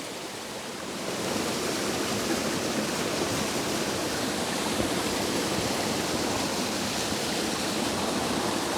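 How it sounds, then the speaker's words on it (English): Floodwater pours steadily over a bridge in the rural Scottish Highlands, a dense, continuous rushing roar that swells after the first second and holds loud and close. "That's pouring all over the bridge."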